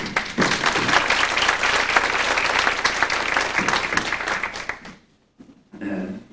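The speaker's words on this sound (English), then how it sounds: "I think we all give them a round of applause" A banquet audience breaks into dense, steady applause for honored teachers, sustained loudly for about five seconds before cutting off abruptly; a brief voice follows after a pause.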